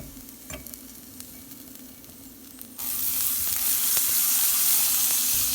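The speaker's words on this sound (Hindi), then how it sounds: "हल्का सा बस ना इन सब्जियों को पकाना है, थोड़ा सा 2-3 मिनट बस।" Vegetables for white sauce pasta frying in a pan, a quiet hum at first, then an abrupt loud steady sizzle halfway through that carries on close up with faint stirring clicks.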